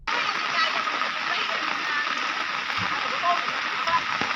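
Floodwater rushes fast through a town street in Occidental Mindoro, turning the road into a river. It makes a steady, loud hiss and roar of churning water, continuous and close, with no break.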